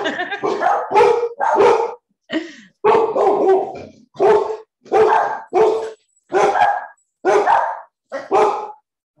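A dog barks in short, loud bursts, about a dozen evenly spaced barks with brief pauses between them, close to the microphone indoors.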